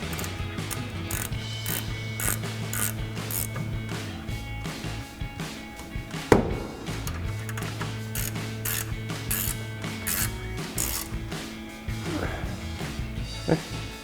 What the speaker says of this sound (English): we'll tighten those down with our 17mm ratcheting wrench